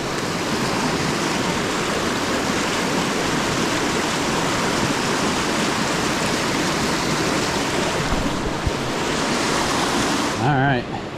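Steady, dense roar of rushing water, loud and continuous from a nearby waterfall on a tributary in Maine, with a brief rustle near the end.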